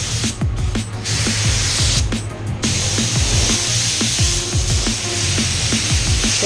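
HVLP spray gun at about 29 PSI laying a heavy coat of sealer inside a car body, a loud, steady hiss close by with rhythmic mechanical clicking underneath, no talking.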